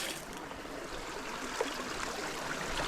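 Shallow creek water flowing over a stony creek bed, a steady broadband wash with a faint trickle, close and continuous, with no talking.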